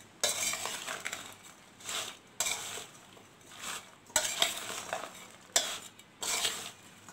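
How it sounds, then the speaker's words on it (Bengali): Mango pickle with asafoetida and chillies is worked by hand in a bowl, giving repeated squelching, scraping bursts about every second, close and moderately loud, with quiet gaps between strokes. "এবার আমি হিংটাও দিয়ে দিচ্ছি। এবার আমি ভালো করে আবার কিছুক্ষণ মাখিয়ে নেব।"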